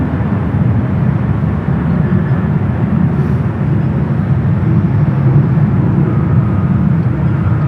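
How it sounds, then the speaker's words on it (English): A United Boeing 777 arriving from Taipei at San Francisco airport gives a loud, steady low jet roar that holds without a break throughout. "it looks like this United 777 and coming in from Taipei, actually heading over to the international gates"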